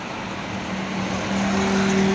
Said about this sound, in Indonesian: ada beberapa bus langsung, ada Akas NR dari Madura